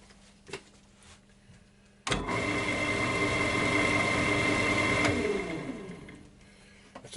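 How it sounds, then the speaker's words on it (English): Wood lathe with an off-centre workpiece mounted on a glue chuck starts abruptly, hums steadily with a rhythmic wobble for about three seconds, then winds down as it switches off. "Now I'm just going to switch it on just to show you"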